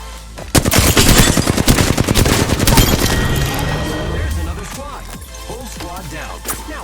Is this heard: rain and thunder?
no